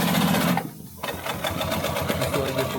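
A feed-off-the-arm sewing machine stitches denim in a rapid mechanical rattle, running steadily apart from one brief pause, then resuming close and loud.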